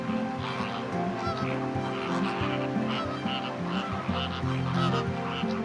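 Greater flamingos calling in the Nemmeli coastal wetland, a dense, continuous honking chorus from a large flock, loud and steady throughout without any talking.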